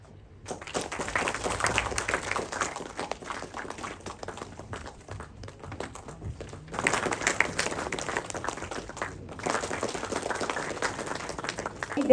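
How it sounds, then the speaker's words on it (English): Applause at a government ceremony launching a national marine logistics portal, a steady crowd clapping that fills the room, briefly dips midway, then swells again, with no talking. "Let us give a big round of applause"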